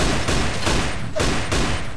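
Four loud, evenly spaced gunshots from a Desert Eagle pistol in the Facebook shooter game Ballistic, each a sharp broadband blast over a dense, continuous layer of game noise, with no talking.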